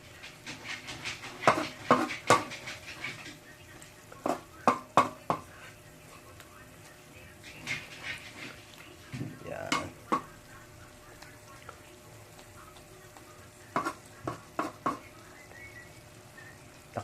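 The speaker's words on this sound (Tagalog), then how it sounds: "ihalo-halo or imikos-mikos natin ng bahagya" A pot of Filipino ginataan, coconut milk stew with meat, is stirred, giving scattered clinks and scrapes of a utensil against the pot in short bursts with quiet gaps between.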